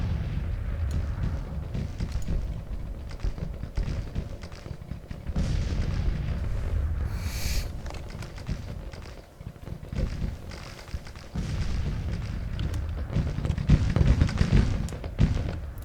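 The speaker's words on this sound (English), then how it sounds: "Oh, that's where all that gunfire was." Battle din from the Civil War strategy game Grand Tactician: Civil War, a continuous rumble of distant artillery booms and crackling musket volleys, with heavier thuds rising near the end.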